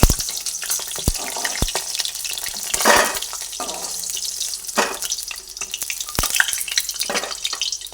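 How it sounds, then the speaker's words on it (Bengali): Lentil dumplings (bori) frying in hot oil, a dense continuous bubbling sizzle close up, with sharp utensil clicks and scraping stirs breaking through at intervals. "বড়িগুলোকে ভেজে নেব বড়িগুলোকে ভেজে নিলাম"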